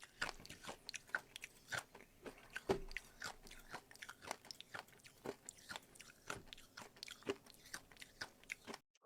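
A streamer chews loudly with an open mouth right against the microphone, giving a steady run of wet crunches and smacking bites, very close and alone.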